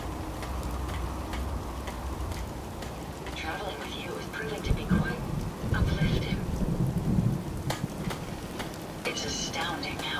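In Fallout 4, steady rain patters while low thunder rumbles swell near the middle of the storm, with occasional sharper cracks over the constant downpour.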